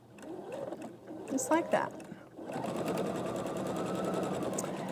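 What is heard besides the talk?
sewing machine stitching quilt pieces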